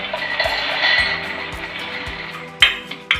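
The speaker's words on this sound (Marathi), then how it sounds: "आपण मिक्सरमध्ये बारीक करून घेऊ." A mixer grinder grinds roasted makhana (fox nuts) into a coarse powder for sugar-free fasting laddus: a loud, steady whirring rattle runs throughout, broken by regular low knocks and a few sharper clatters near the end.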